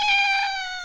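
A single clear, tonal cat meow used as a sound effect in a Hindi horror comic tale, close and fairly loud, holding briefly before trailing off.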